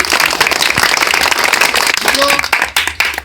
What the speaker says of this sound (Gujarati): આ ટીમને ફરીવાર એકવાર આપણે તાળીઓને જોરદાર કરતા મિત્રો